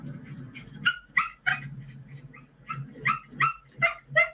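Nervous dog shut in a car parked in a driveway, whining and crying in a run of short, high, uneven yelps with a few sharper barks, close and fairly loud, with no one talking over it.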